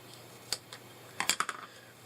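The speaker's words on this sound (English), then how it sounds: "Take a little pair of scissors and snip that off" A few small, sharp snips of scissors cutting paper, close and quiet, with a quick cluster of cuts after an isolated first one.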